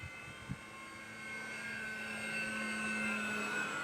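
An FT Corsair RC model airplane drones steadily overhead, its motor hum faint and distant at first and rising slightly as it passes, after a couple of soft knocks nearby.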